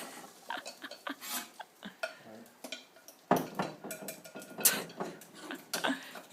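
Fork clinking and scraping against a bowl while pancake batter is mixed by hand, a run of irregular close taps and light scrapes with brief pauses.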